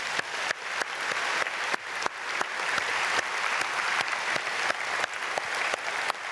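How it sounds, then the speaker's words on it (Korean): A church congregation at a Korean early-morning prayer service applauds in blessing, a steady, moderately distant wash of many hands clapping that holds evenly throughout. "박수로 축복하겠습니다."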